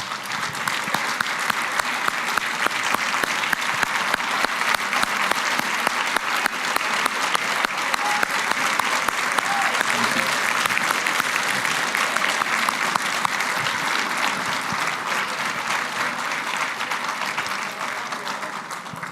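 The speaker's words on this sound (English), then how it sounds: "please give a huge round of applause for the staff of Students for Liberty" A large audience at a LibertyCon International conference applauds the Students for Liberty staff with loud, sustained clapping that holds steady for nearly twenty seconds before easing slightly at the end.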